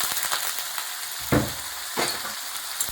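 Eggplant frying in a pan with five-spice seeds, onion, ginger, garlic, tomato paste and a green chili, giving a steady close sizzle broken by a few louder scraping stirs.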